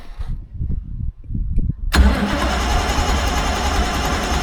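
A Rotec Renegade radial aircraft engine cranks with a few low, uneven turning thumps, then catches abruptly and settles into a loud, continuous running roar.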